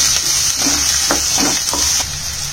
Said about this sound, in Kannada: ಇವಾಗ ನಾನು ಈರುಳ್ಳಿ ಹಾಗೇನೆ ಹಸಿಮೆಣಸಿನಕಾಯಿ ಹಾಕ್ತೀನಿ